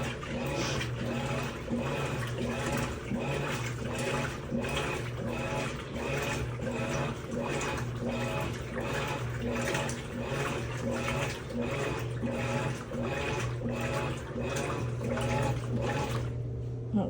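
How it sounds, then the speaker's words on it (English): Warm water runs from a tap with a continuous, full rushing splash, steady and fairly close, overlaid by regular rhythmic pulses from a machine cycling nearby, with no clear talk. "got the water on warm"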